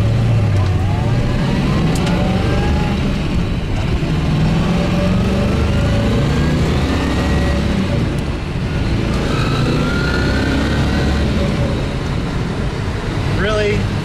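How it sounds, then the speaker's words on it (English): A 1963 fuel-injected Corvette engine revs hard as the car accelerates from a stop, a loud, steady roar climbing through the gears from inside the car, with a brief shift partway through. "the nose comes up, the back end squats down, the engine revs up, and it just takes off and goes"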